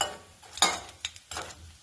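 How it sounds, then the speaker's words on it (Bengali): Bora fritters frying in a pan of oil give a soft sizzle, broken by a few short scraping stirs and clinks of a utensil at uneven intervals, close by and with no talking. "তো এইগুলো ভেজে নাও বড়াগুলো"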